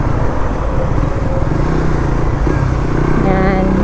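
Engine of a manual transmission vehicle in traffic pulling away on half clutch, a loud steady close drone that builds slightly near the end, with a voice talking over it.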